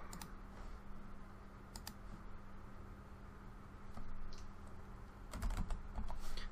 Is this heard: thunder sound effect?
no